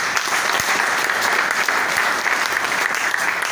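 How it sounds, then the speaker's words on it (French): An audience at a business event breaks into dense, continuous applause, many hands clapping together in an even wash of sound from start to finish. "Est-ce qu'on peut applaudir pour vous?"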